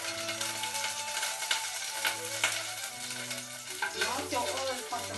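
Onions frying in hot oil in a pot for okro soup, a steady broadband sizzle with scraping stirs throughout, close and fairly loud, with a soft tonal hum running under it and no talking.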